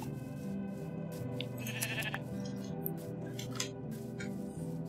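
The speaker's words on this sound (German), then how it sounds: "Hier sind auch gleich Schafe." Sheep in the Minecraft video game bleating, several short nasal bleats repeated at irregular intervals over a steady layer of game background tones.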